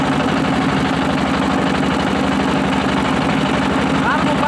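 A motor boat's engine runs close and loud, a steady throbbing drone with a low hum that never lets up.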